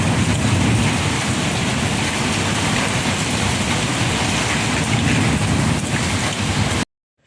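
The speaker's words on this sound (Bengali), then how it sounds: "দেখছো শিলও পড়ছে ছোট" Steady heavy downpour with small hail falling during a storm, a dense continuous hiss and patter close by, loud and unbroken until it cuts off abruptly near the end.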